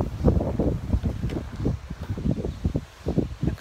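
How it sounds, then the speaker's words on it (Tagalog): Strong wind lingering after a hurricane in North Carolina gusts in uneven pulses across the microphone, loud buffeting near the garden with rustling between bursts and no speech. "Lakas-lakas ng hangin hanggang ngayon."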